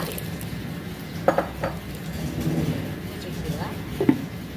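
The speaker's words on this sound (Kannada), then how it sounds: "ಈಗ ಫಸ್ಟಿಗೆ ಹೋಳು ಬೇಕು ಹಾಕೊಂಬ" Clattering pieces of elephant foot yam drop into a metal pot, with a few sharp clinks standing out over a low kitchen background and faint voices.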